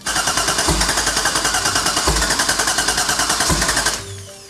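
An old racecar engine, revived for a junkyard jetboat, cranks with a loud, rapid rhythmic churning and heavy periodic thumps for about four seconds before it cuts off and falls quieter.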